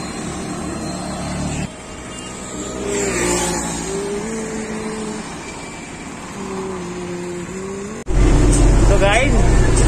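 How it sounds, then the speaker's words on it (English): Tamil Nadu public bus ride heard from inside the cabin: a steady engine rumble that rises and falls with the gears, with a louder surge near the end and faint talk in the background. "this is the Tamil Nadu DVC bus"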